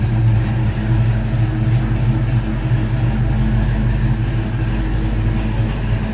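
A 1995 Ford Mustang GT with an aftermarket exhaust idles close by with a loud, steady, deep rumble and an even low throb throughout.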